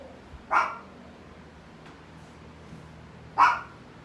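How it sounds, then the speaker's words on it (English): Small chihuahuas give two short, sharp barks, one near the start and one near the end, with quiet background between them. "I have chihuahuas. They bark at everything,"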